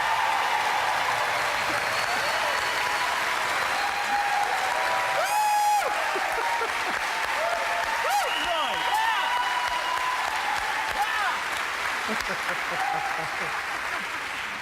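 A live audience at a 2005 pumpkin competition gives a long, sustained round of applause, even and loud for nearly fifteen seconds, with a few whoops and a voice briefly rising over the clapping.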